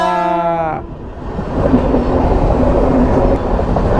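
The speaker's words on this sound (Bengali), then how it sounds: "ফাইনালি ট্রেনটা চলে গেল।" A train passes close by, a horn blast opening the clip, then a loud, steady rumble of rolling wagons with a faint squeal that carries on to the end.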